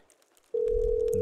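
A telephone in the Stardew Valley farming game starts a call: after a brief quiet stretch a steady electronic tone comes in and holds, a faint second tone joining near the end, with no talk.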